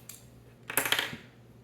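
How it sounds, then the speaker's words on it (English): Scissors snipping excess string off a freshly tied knot: a quick cluster of crisp snips and rustling close by, with no talking. "And then I'm going to cut the excess off,"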